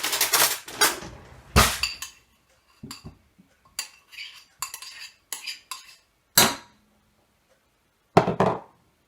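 A spoon scrapes and clinks against a bowl to get out melted Mars bar mixture, making a series of short, sharp metallic scrapes and taps separated by quiet pauses.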